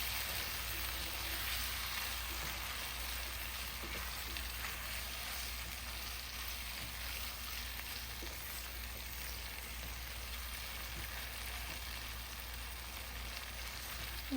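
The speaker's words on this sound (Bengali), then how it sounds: "এরপর এই যে বাইং মাছগুলো আমি দিয়ে দিতেছি, দিয়ে ভালো করে মিক্স করে নেব।" Baim eel pieces are tossed and mixed in a hot frying pan for a home-style fish bhuna, giving a faint, steady sizzle with occasional soft stirring scrapes and no talking.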